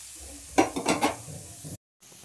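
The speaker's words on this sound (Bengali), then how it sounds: "অল্প অল্প একটু ভাজবো।" Chowmein ingredients being lightly fried: a brief burst of spatula scraping and sizzle lasts about half a second over a low hiss, then cuts to a short moment of silence.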